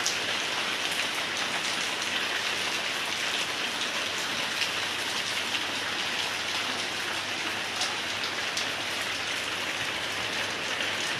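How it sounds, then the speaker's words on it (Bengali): Heavy rain pours steadily in northern Bangladesh after days of intense heat, a dense, even hiss of drops on surfaces with no let-up and no voices. "দেখতেছেন এখনো বৃষ্টি পড়ছে।"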